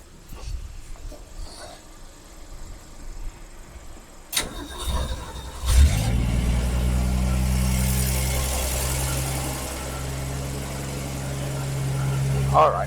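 An old Ford Falcon car engine cranks and catches after a quiet stretch, then settles into a loud, steady idle close by, with a brief revving swell near the end.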